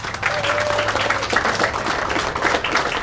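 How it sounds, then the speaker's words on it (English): A round of applause from the crowd at a fishing tournament held at a golf course lake in Palatine, Illinois, a brisk outdoor clatter of many hands, fairly close, with a faint hum underneath. "Let's give them a round of applause."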